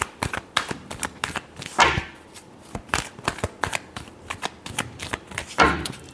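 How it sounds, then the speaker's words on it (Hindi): Tarot cards being shuffled by hand, a steady run of crisp riffling flicks and slaps at close range, with a couple of louder bursts where the deck is bridged and squared. "last shuffle"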